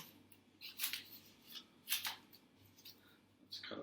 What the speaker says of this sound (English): Let's cut up these squares